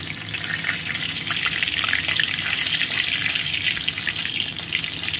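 Cumin seeds and a split dried red chili sizzle and crackle in hot mustard oil, a steady bright spattering hiss with no voices.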